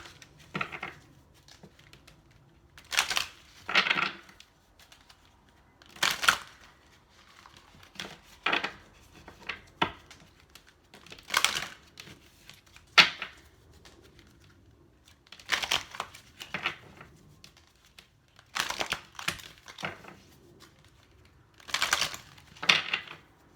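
Soul Journey Oracle cards being shuffled and drawn, close crisp riffling and flicking bursts every second or two against quiet gaps, no speech.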